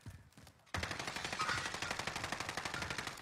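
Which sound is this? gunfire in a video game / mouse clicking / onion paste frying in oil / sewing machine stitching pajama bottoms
gunfire in a video game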